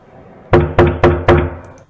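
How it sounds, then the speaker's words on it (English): Four evenly spaced knocks on a door, firm and close, each thud ringing briefly before the next, followed by quiet. "Okay, just a simple knock knock."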